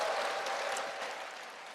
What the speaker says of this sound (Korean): 오늘 그 역사적 현장에 오신 여러분들을 위해서 다시 한번 박수 한번 쳐주세요.